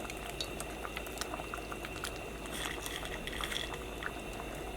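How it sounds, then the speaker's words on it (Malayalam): Rice for egg biryani boiling in a pot, a soft continuous bubbling and simmering with small pops and faint clinks, quiet and close, no talking. "അപ്പോൾ അരി ചേർത്ത് കഴിഞ്ഞിട്ട് നന്നായിട്ട് തിളച്ചിട്ടുണ്ട്"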